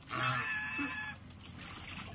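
Muscovy ducks and other birds for sale at a bird house in Pune give faint clucking, honking calls amid a noisy yard, short and somewhat distant, with no clear voices.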